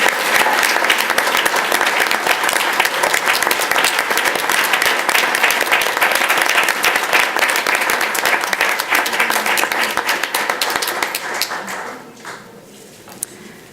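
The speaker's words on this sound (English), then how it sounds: "Let's give them a round of applause." Loud, dense audience applause fills a school district board meeting room, sustained for about twelve seconds before tapering off.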